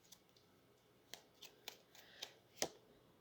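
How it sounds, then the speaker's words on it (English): Tarot cards are shuffled by hand in quiet, crisp bursts: a handful of short riffling flicks spaced irregularly, growing slightly louder toward the final snap, with no voices. "I'm going to keep on shuffling"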